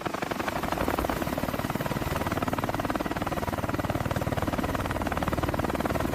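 The largest American helicopter ever built roars at full power, its rotor throbbing in a steady, loud, fast chop close by, with a dense engine whine underneath and no talking.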